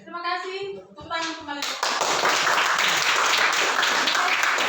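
A classroom of students claps after a group presentation, a dense burst of applause starting partway through and continuing steadily to the end, following a stretch of spoken voice.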